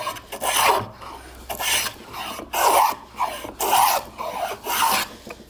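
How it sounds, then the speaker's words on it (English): Hand plane taking wide, thick shavings from a wooden board while squaring it, six or seven rhythmic rasping strokes each lasting about half a second, close and loud with brief pauses between passes. "I'm going to go ahead and start planing with this."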